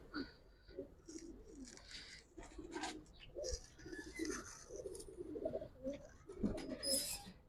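Silver Giribaz pigeons cooing at close range, a series of soft, throaty rolling coos repeating irregularly over several seconds, with light rustling and scattered bird sounds around them.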